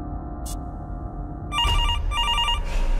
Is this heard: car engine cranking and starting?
no